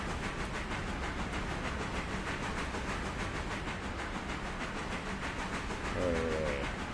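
A heavy train rolls along steadily in the railroad simulation game Railroader, giving a continuous rumbling hiss of wheels and machinery that holds even throughout and swells slightly near the end, with no talking.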